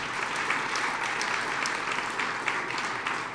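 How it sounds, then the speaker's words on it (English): Hall of fame ceremony audience applauding the players, a short burst of continuous, fairly loud crowd clapping with no talk over it. "please give them a round of applause"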